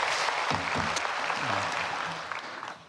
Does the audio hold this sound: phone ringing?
no